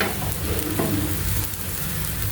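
Tomato pancakes (tomato pole) frying in a pan over a low gas flame, giving a steady, close, continuous sizzle and crackle with no talking.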